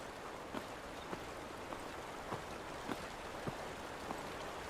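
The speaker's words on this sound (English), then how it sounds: "I'm hearing running water like I'm near the beach, but I'm not." Soft running water in the Fallout 4 video game, a faint steady trickling wash with light drip-like ticks recurring about every half second, heard on its own.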